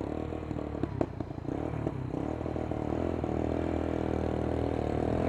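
Kymco K-pipe 125 cc motorcycle riding through Los Angeles traffic, a steady engine drone that builds slightly, with a few clattering knocks early on, heard close from the rider's position.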